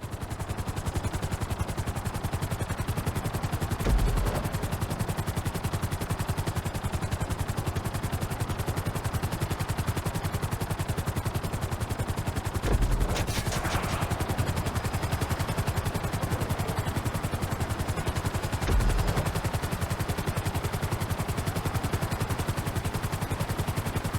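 A helicopter in the video game Grand Theft Auto V at a flight school, a steady, fast rotor chop that drones evenly throughout, with a few brief sharper thumps along the way and no talk.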